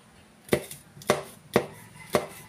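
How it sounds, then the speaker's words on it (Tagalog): A knife chopping small green chili peppers for sizzling sisig, four sharp, evenly spaced cuts against a cutting board, close and crisp with quiet pauses between strokes. "giwain lang natin ang ating green na sili"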